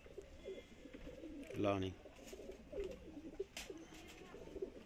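Teddy Mati pigeon gives a short coo in the middle of the clip, fairly close, with a voice speaking around it.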